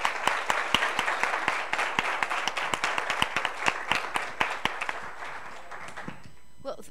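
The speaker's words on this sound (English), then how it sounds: "I just want you also to give a round of applause to the entire panel" An audience at a Chevening event gives the panel a round of applause, with distinct rhythmic claps over a softer applause bed that fade out near the end, and a voice speaks over the clapping.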